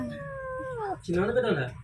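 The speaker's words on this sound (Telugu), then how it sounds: "మా ఇంట్లో చిన్న పిల్ల వచ్చింది" A small kitten meows twice in quick succession, a thin falling cry followed by a rougher, louder one, heard close up.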